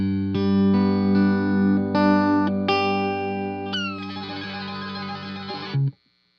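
A heavily distorted electric guitar used as a noise guitar sustains thick chords that shift several times, swelling with effects before cutting off abruptly.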